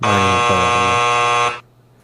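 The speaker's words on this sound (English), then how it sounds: "The buzzer." A loud, harsh electronic buzzer blares steadily for about a second and a half, then cuts off abruptly into quiet room tone.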